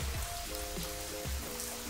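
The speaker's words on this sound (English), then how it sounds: "Well, in true Michigan fashion, it's now pouring rain." Heavy rain pours and blows into an open garage in Michigan, a steady dense hiss of drops hitting surfaces, close and continuous with no voices.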